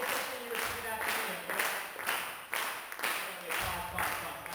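A group claps along together in a warm-up game at a speech and debate showcase. Bursts of clapping repeat in a steady rhythm, each lasting a fraction of a second, filling the room at moderate loudness with voices mixed in.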